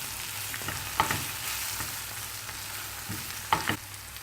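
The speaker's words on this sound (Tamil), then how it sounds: "மிதமான சூட்டில் நல்லா வதங்க விடணும்" Brinjal frying with spices and coriander powder in a pan over medium heat, an even soft sizzle broken by a few clinks and scrapes of a stirring spoon.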